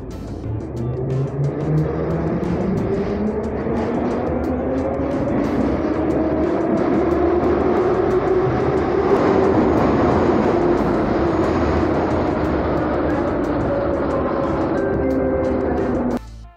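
A Nizhny Novgorod metro train runs between stations, a loud steady rumble of wheels and motors with a rising and falling whine that holds throughout and cuts off at the end.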